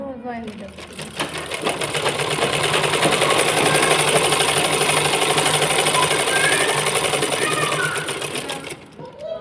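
A sewing machine stitching palazzo pants runs in one long steady burst of rapid mechanical clatter, close and loud, starting and stopping cleanly, with a person talking over it.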